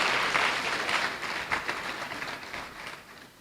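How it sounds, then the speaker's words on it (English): A graduation audience applauds, a dense wash of clapping hands that stays steady and fairly close before gradually thinning and fading out. "Another round of applause for Mrs."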